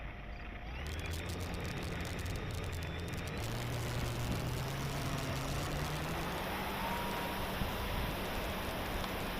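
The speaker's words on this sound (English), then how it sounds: "Yeah, that motor is loud, but it's working so far." A stock 750kv electric motor on an FMS Pilatus PC-21 model plane gives a loud, steady whine in the air, with pitch shifting slowly as the plane flies, amid wind noise.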